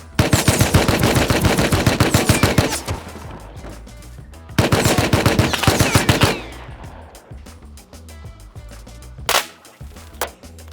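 Automated turret in the Rust video game fires long rapid bursts of gunshots, two loud sustained volleys separated by a brief pause, followed by scattered single shots and sharp impacts.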